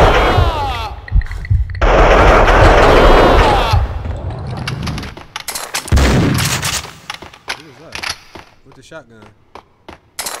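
Shotgun fire in the video game Max Payne 2 comes as loud, booming blasts in quick bursts, separated by short gaps and clatter in a noisy, close action mix.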